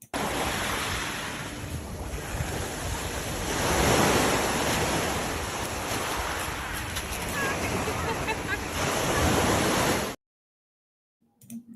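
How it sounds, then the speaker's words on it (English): Steady ocean surf washes onto a beach for about ten seconds, with a broad continuous roar that swells slightly midway and has some wind buffeting the microphone, then cuts off abruptly into near silence. "We're at the ocean."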